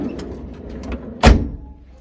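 A passenger van's sliding door is handled with a few light clicks and knocks, then one loud thunk as it moves, close by and on its own with no talk.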